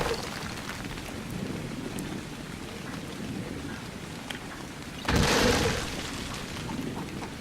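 Steady rain falling in the video game ARK Survival Evolved, a dense continuous hiss of drops with a louder surge of rainfall or distant rumble midway, heard alone without talk.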